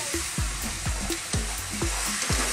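Mushrooms and spinach frying in a pan, a loud steady sizzle punctuated by regular rhythmic scrapes and knocks of a spoon stirring about every half second, close and without talk.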